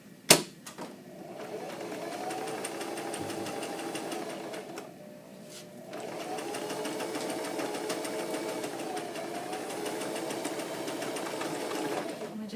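A sewing machine stitches puppet fabric in two long continuous whirring runs split by a short pause, a close steady mechanical buzz with a click at the start.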